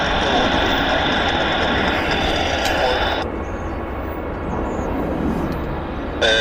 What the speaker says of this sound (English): Another WestJet blasting off.